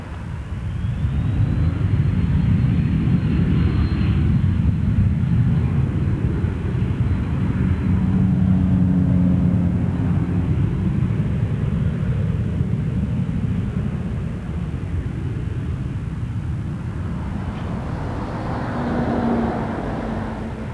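A Sunwing airliner taxiing onto runway 05 at Toronto Pearson Airport, a continuous loud low jet engine rumble with a faint high whine, steady throughout and fairly close, no voices.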